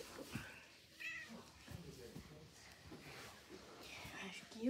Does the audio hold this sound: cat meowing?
yes